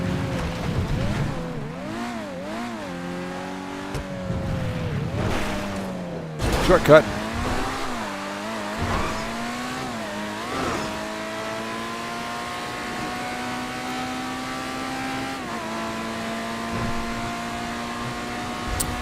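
Car engine in GTA 5 Online driving steadily, its pitch rising and falling through gear changes, with a short louder burst midway; someone speaks briefly over it.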